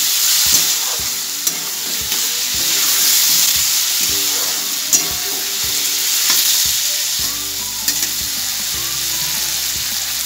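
Soybean and potato curry cooks in a pan, a steady close sizzle with repeated scraping stirs and taps of the spoon against the pan, no talking.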